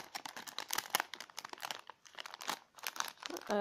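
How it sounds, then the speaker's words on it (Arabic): A plastic bag of henna powder is crinkled and torn open, giving dense crackling and rustling up close in irregular bursts with a brief pause midway, no talking. "هنفتح مع بعض يا بنات كيس الحنة"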